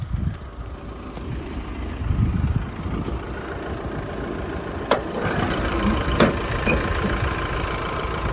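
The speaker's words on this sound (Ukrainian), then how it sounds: "Двигун працює чудово, рівно" A Volkswagen Crafter van's engine idles with the hood open, a steady low rumble close by with a couple of sharp clicks or knocks partway through.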